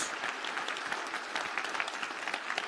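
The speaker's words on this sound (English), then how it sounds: "Can we give a huge round of applause to our badge team?" Audience applause at the closing of a DistrictCon 2026 conference, a dense steady wash of many hands clapping, fairly distant and even throughout.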